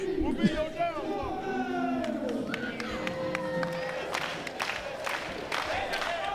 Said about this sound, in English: Crowd rallying behind Espy here